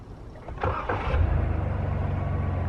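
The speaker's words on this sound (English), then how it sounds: "we're going to start the engine from right here" Lincoln Continental engine started remotely by phone, heard from outside the car: a couple of short cranking bursts, then the engine catches and settles into a steady, low idle rumble.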